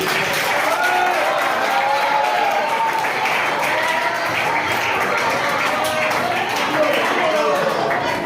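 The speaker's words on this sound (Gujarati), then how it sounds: "એમના બંને માટે જોરદાર તાળીઓ પાડો" Audience at a school career seminar for Standard 10 and 12 students applauding a principal and teacher, a dense, steady roar of many hands clapping together for several seconds, loud and close.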